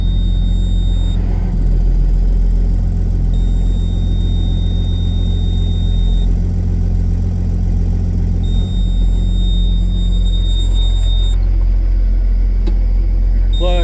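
A Case STX375 tractor engine runs at a steady, loud, deep rumble while the scraper is lifted, holding a constant drone with faint high whining tones above it and no talking.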